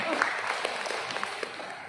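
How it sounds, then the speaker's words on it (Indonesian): Applause from an audience at a teachers' Youth Pledge commemoration runs steadily throughout, with a voice speaking over it. "Tepuk tangan tadi untuk Ibu Mulyani"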